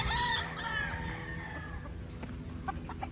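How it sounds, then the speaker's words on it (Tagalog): Local roosters crowing on a farm, drawn-out crows near the start followed by a few short clucks, moderately close over a low background rumble. "So ayan, nagsisitilaok na rin."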